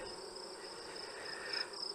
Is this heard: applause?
no